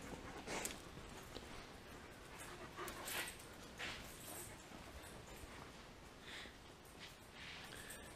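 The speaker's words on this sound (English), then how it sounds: "Good puppies." Two German shepherds whimper and snort softly in a workshop, faint short sniffs and small whines scattered through a low background hiss, no talking.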